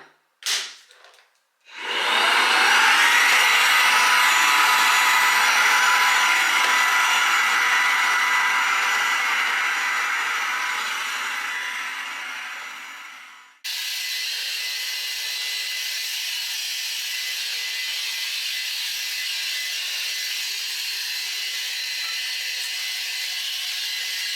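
Vacuum cleaner with a changed nozzle cleaning stairs in a house, a loud steady whooshing drone that starts up, slowly fades, then drops to a lower steady hum as the nozzle shifts.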